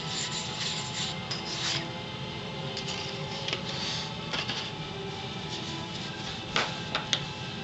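Steel scrapes rhythmically across a sharpening stone as a knife is sharpened freehand, a close, gritty rasp repeating in back-and-forth strokes with occasional sharper scuffs.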